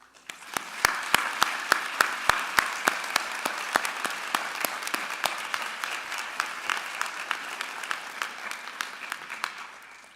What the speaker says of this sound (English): I'd like to take a moment at this time and applaud your support systems.